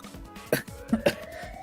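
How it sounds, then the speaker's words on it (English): A woman character coughs hard in the video game Zero Escape: 999, a few short, harsh bursts close up with quiet gaps between them. "she's coughing so hard she can't even talk"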